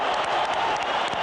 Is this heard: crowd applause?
yes